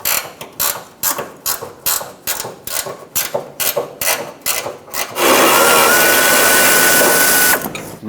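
A hand ratchet backs off a 15mm fuel tank strap mounting nut on a Ford E-350 Super Duty van. It gives about a dozen sharp, evenly spaced bursts of clicking, then a steadier, denser whir of turning as the nut spins loose.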